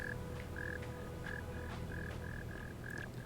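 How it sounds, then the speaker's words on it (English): Frog in The Forgotten City croaking in a regular series of short, evenly spaced calls over a low ambient hum, fairly quiet and alone with no voices. "There's a frog here."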